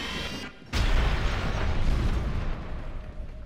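A giant bomb blows up in the LEGO Dimensions Adventure Time level, starting with a short hush and then a sudden loud, deep blast that keeps rumbling with debris for several seconds.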